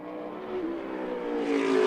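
The number 22 Tutterow Racing Fury modified with an ECR engine circles South Boston during SMART Tour qualifying, a loud steady engine drone rising in pitch as it accelerates and nears.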